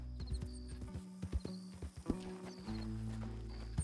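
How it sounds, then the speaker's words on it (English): Horse hooves clip-clop in a quick gallop inside a western role-playing video game, with a loud whinny breaking through as the animal bucks and runs off, then a steady low rumble of ambient game sound. "My horse up and bucked me and ran off."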